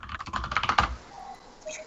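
Rapid keystrokes on a computer keyboard click in a quick irregular run for about a second, fairly faint and close, followed by near silence with a faint tone.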